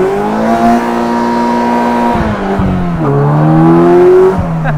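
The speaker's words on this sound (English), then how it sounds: "Watch how easy this thing spins." A Polaris Slingshot SLR open-top roadster with traction control off spins its rear wheel, the engine loud and close, revving and bogging in surges as the tire breaks loose.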